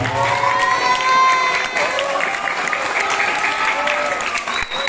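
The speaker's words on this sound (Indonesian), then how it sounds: "Tepuk tangan untuk beliau Ustaz Amirullah" An audience at an Islamic school gathering applauds a speaker, a loud, dense burst of clapping with some cheering that swells then tapers over a few seconds.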